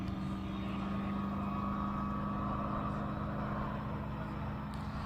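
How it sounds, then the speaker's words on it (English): A classic Shelby racing up the Simola Hillclimb drones steadily as it gears down, its engine a low, distant rumble with no voices. "How good does that Shelby sound on the gear down?"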